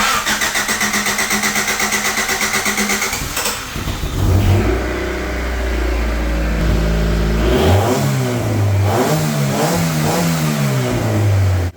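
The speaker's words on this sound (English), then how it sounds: "Guys, this engine is idling amazing right now." A high-mileage, once-abandoned Honda CRX undergoing a rebuild cranks over with a rhythmic starter churn for several seconds, then fires up with a loud rev and settles into a steady idle broken by a few throttle blips.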